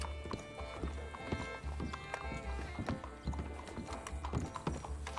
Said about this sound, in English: Cinnamon, You'll be a law horse.